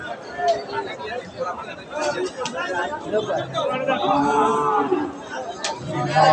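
At a hot, crowded Sunday cattle market, a six-tooth crossbred dairy cow gives a drawn-out low moo in the middle, nearly buried under constant crowd chatter and people talking close by.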